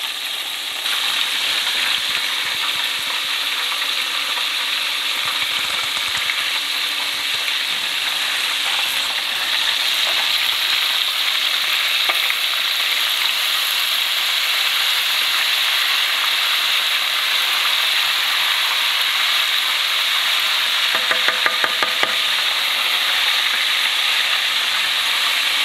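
Buttermilk-marinated chicken fries in hot grease as a loud, continuous, crackling sizzle that fills the whole stretch, with a brief burst of sharper popping near the end and no voices.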